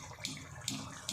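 Partly cooked rice for chicken dum biryani is poured through a sieve to drain, giving soft, close water splashes and trickling with a few short bursts.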